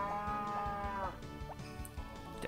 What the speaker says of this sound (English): I want this cow.